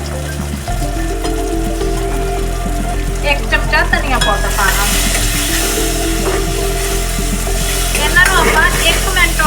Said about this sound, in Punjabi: ਅਸੀਂ ਹਲਕਾ ਜਿਹਾ ਟਮਾਟਰ ਦੇ ਨਾਲ ਭੁੰਨਾਂਗੇ